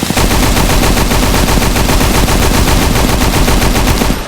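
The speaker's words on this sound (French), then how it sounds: "Là-bas, là, je vais lancer les munitions." Rapid automatic gunfire in a Roblox game, a loud, continuous, evenly spaced stream of shots lasting throughout, with no talking over it.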